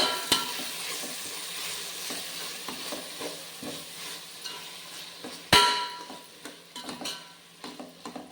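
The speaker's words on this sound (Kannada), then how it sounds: "ಇದನ್ನು ನೀಟಾಗಿ ಮಿಕ್ಸ್ ಮಾಡ್ಕೊಳ್ಳೋಣ" A spoon stirs a fenugreek pulao mixture in a frying pan, with soft sizzling and repeated clinks and scrapes against the metal, one sharp knock midway, close and quiet without speech.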